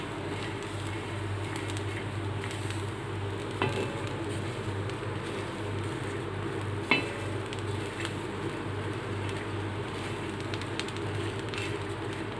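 Fresh green vegetables frying in a pan and being roasted dark, with a steady soft sizzle and crackle throughout and a couple of sharp clicks along the way.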